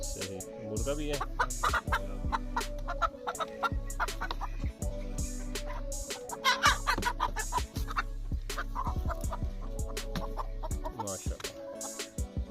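A rooster and hens on a small desi and Aseel chicken farm in Pakistan cluck steadily throughout, with occasional louder calls rising over the flock's continuous chatter.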